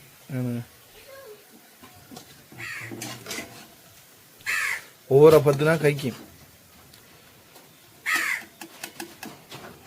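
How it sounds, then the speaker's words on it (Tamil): A crow caws several times, loud, short calls spread across roughly ten seconds, mixed in with people talking nearby outdoors. "எங்கே போனாலும் காக்கா காத்திட்டான்"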